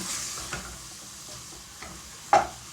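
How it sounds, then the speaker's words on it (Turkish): Chicken wings sizzle softly as they sauté in a pot, with a few sharp stirring clinks and scrapes breaking through the steady frying hiss. "Onu önce güzel bir soteleyeceğiz tencerenin içinde."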